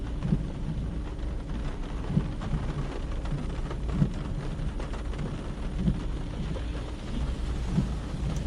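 Steady rain drumming on a moving Renault Clio on a wet road between Breaza and Nistoresti, a continuous dense wash with low rumble and faint periodic thumps, no voices.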